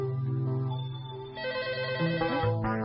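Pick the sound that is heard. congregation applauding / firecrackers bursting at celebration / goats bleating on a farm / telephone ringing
telephone ringing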